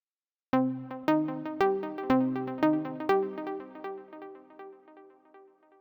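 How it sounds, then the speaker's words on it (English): Plucky synth chords in Ableton Live strike in a steady rhythm of short, bright attacks that decay quickly, the final chord ringing out and fading, with no voices. "So the chords is basically a pluck sound."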